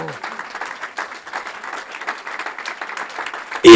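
Loud, sustained applause and cheering from a church congregation fill the room without a break, a dense wash of clapping that rises sharply at the very end.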